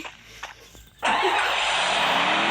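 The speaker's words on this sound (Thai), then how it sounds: "เจอมอเตอร์ไซค์พอดีเลย" A motorcycle roars past close by, its loud engine noise starting abruptly and holding steady for a couple of seconds after a quieter lead-in.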